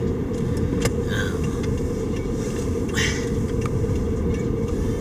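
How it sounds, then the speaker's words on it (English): Road traffic on Lake Street makes a loud, constant low rumble of passing vehicles, with occasional brighter whooshes and clicks riding over the heavy engine and tire drone. "traffic shitty out on Lake Street already"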